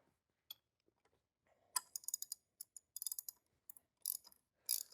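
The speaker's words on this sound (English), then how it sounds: "So using a 24 millimeter socket with an extension," A ratchet with a 24 mm socket and extension loosens the oil filter cap on a Jeep JK, giving quiet bursts of rapid clicking with small pauses between strokes, close by and with no talk.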